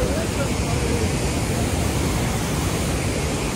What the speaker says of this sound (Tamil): ஸோ அருவி பயங்கரமாக இருக்குது